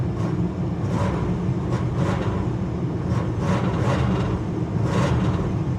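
A used car at a Copart salvage auction runs at a steady idle, a constant loud engine drone with faint rhythmic pulses throughout and no talking.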